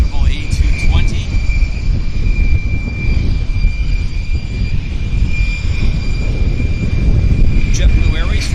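A JetBlue Airbus A220 throttles up for its takeoff roll at an airport, a steady loud roar of jet engines with a whining tone running throughout, while a person talks over it.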